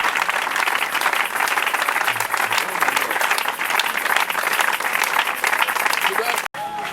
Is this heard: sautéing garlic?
no